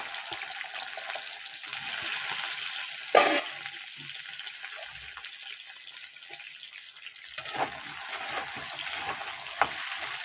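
Taro, eggplant and potato pieces fry in oil in a pan, giving a steady sizzle with occasional sharp scrapes and clatters of stirring, close by and moderately loud with no talk.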